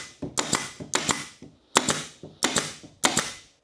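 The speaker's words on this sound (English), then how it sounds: "is that little pin nailer I was talking about" A pneumatic pin nailer fires 3/4 inch brads into a tool bench in a series of six sharp, close, snappy cracks at an uneven pace, each followed by a brief hiss of air, with no one speaking.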